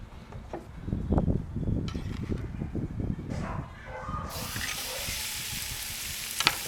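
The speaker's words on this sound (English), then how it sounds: "Oh, listen to that sizzle." Loud frying sizzle of a ribeye steak in an Ooni Koda 16 pizza oven erupts near the end, a steady hiss following some clattering and handling noises.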